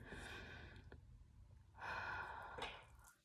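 A single exhale during an exercise circuit, a soft breathy rush of air heard close up, following an earlier shorter breath, with no talking.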